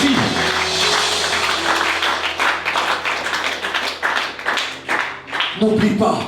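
A church congregation claps in a steady, sustained burst for the pastor, loud and continuous, with voices mixed in under the applause.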